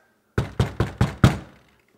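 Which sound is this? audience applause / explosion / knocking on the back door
knocking on the back door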